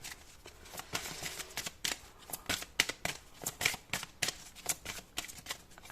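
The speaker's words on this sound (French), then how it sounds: "On prend une 3e carte." A deck of tarot cards shuffled close up, a rapid run of crisp papery riffles and slaps that repeat unevenly for several seconds, with no voices.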